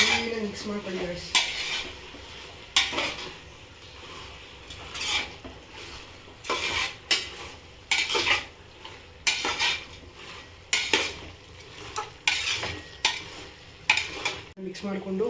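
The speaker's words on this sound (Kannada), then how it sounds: "ಕ್ಲೀನಾಗಿ ಮಸಾಲೆ ಜೊತೆ ಕ್ಲೀನಾಗಿ ಮಿಕ್ಸ್ ಮಾಡ್ಕೊಳ್ಳಿ ಗೈಸ್." Chicken and masala stirred in a pan for a bachelor-style chicken gravy, with repeated metal utensil scrapes and clinks against the pan in an irregular rhythm over a soft sizzle, close and clear, with no voices.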